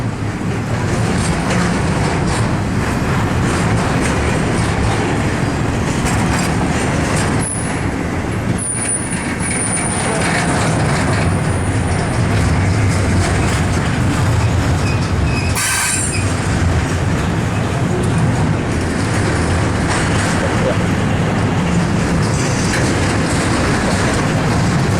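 Freight train with flatbed cars passing close by, a steady loud rolling rumble of wheels on rail throughout, with brief high wheel squeals and a sharp screech midway.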